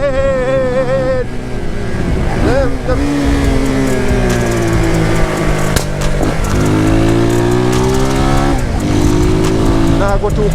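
A Zamco 250 motorcycle revs hard while scrubbing in a new tire, its engine note rising and falling in loud, sustained sweeps with repeated throttle blips. It sounds close and continuous, and voices can be heard under it.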